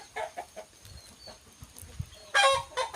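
Chickens cluck in short bursts nearby, and a rooster's loud crow breaks in toward the end over faint outdoor background.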